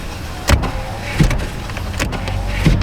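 The power rear sliding window motor of a 2018 Chevrolet Silverado runs with a steady close whir, broken by a few soft thumps and clunks as the glass moves, with no talking.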